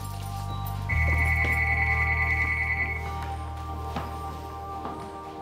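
A telephone rings with a steady electronic ringtone tone lasting about two seconds over a constant low hum and background noise, with no one speaking.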